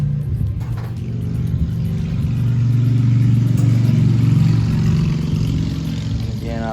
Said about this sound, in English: I apologize for the road noise